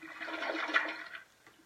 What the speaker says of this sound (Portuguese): Pronto, demos descarga, Rômulo.